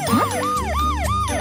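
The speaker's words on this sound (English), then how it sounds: "It's only an ambulance." A cartoon ambulance siren wails in repeated rising and falling sweeps, loud and close, with no voices over it.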